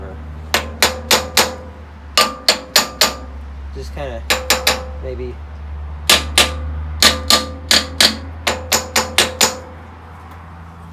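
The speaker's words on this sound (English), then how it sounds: "I would be comfortable just kind of tapping it a bit with a hammer." Hammer strikes tapping on the flywheel of a Briggs and Stratton opposed-twin engine, sharp metallic taps in quick bursts of three to five, repeated through the stretch over a steady low hum, with a brief spoken remark partway through.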